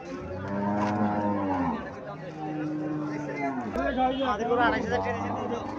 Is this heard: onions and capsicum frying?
no